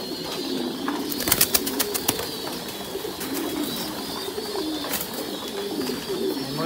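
Thai Titan pigeons cooing nearby in a loft, soft low coos repeating through steady background noise, with a few sharp clicks or wing flaps early on.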